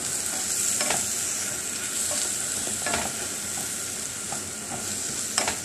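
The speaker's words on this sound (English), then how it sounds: "the purslane should cook a little bit down like spinach. And I just threw a couple of eggs in there" Purslane and a couple of eggs fry in a pan with no butter, giving a steady close sizzle with a few scattered scrapes of stirring, and no voices.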